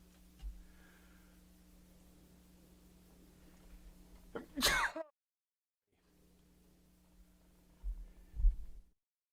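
A single sharp sneeze bursts out close to the microphone against a low steady hum and then cuts to silence.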